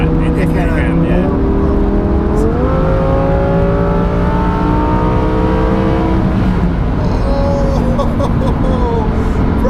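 A 640 bhp Lamborghini Huracan Performante taken fast around a corner, its engine loud and close, pitch climbing and dropping through gear changes, with people talking over it.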